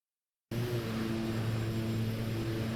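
OV-10 aircraft engine droning steadily in flight within a flight simulator, a continuous loud hum with strong low harmonic tones, starting abruptly after a brief silence and holding constant.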